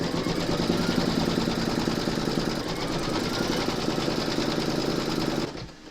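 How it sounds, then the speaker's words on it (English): A domestic embroidery machine stitches a placement outline through fabric held in a hoop, giving a steady, fast mechanical whirr and needle chatter close by that runs without pause for several seconds, then slows and stops at the end. "Pop your hoop into your machine and stitch round number 3 to secure it."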